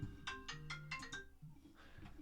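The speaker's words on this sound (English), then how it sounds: "There was a phone call coming in." A phone ringtone chimes in a quick run of bright melodic notes, faint and brief, with a low hum underneath.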